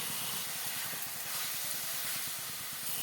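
Fried potatoes go into a hot spice masala for a cabbage dhoka dish, giving a loud, continuous sizzle and hiss of frying that stays steady from start to finish, with no voices.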